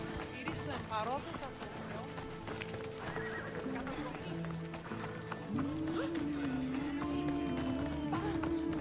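Horses gallop with rapid clip-clop hoofbeats and neighs in the video game Assassin's Creed Odyssey, amid layered game ambience and music, while a player talks over the action.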